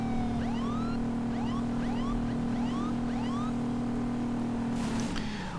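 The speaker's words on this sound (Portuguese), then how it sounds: "Brincando com a sirene aqui." A video game police car siren whoops repeatedly in rising yelps over a steady engine hum, loud and continuous, ending with a brief clunk.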